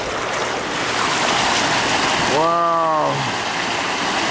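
Floodwater rushes down a small creek beside a pigeon farm in Sodus, Michigan, as a loud, steady, broad roar. A voice briefly exclaims partway through.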